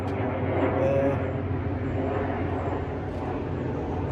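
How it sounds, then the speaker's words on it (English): A faint, distant airplane drones overhead, a low steady hum beneath outdoor background noise. "I'm right on a flight path. I don't know if you can hear that plane"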